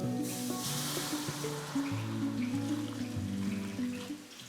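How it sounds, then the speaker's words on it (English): Boiling water poured into a hot cooking pan holding a sticking pepper paste for Turkish stuffed eggplant, a steady close pouring and sizzling wash with bubbling tones, continuous and fairly loud for several seconds with no talk. "when it starts to stick, I immediately add boiling water."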